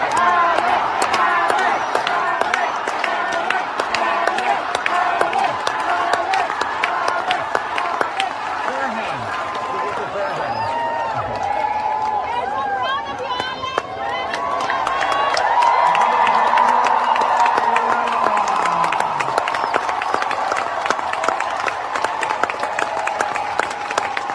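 A large crowd of Filipino fans stands after Alex Eala's tennis match, with sustained loud applause and cheering and crowd voices filling the whole stretch, a voice talking over it at times.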